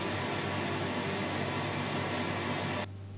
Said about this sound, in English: I'm running pink noise to test it.